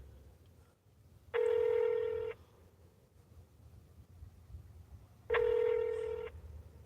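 Two loud electronic tones from a telephone voicemail system during a call, each a steady beep about a second long, separated by a few seconds of quiet line hiss.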